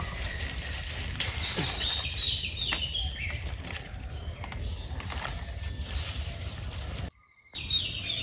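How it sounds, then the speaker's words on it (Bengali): Morning birdsong beside a village pond and taro garden: several clear whistled calls and chirps rise over a soft, constant outdoor hum, fairly close and moderately loud. "সকালবেলা এত রকমের পাখির ডাক শুনে মনটা প্রশান্তিতে ভরে গেল"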